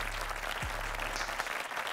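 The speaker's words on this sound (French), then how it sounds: "Bah déjà, on peut venir s'applaudir." A small group applauds themselves after finishing a workout circuit, a brief burst of close clapping with some crowd noise and a low hum underneath.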